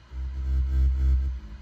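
A deep synth bass pulses in a slow, rounded rhythm, warm and heavy at the low end, playing alone without talk.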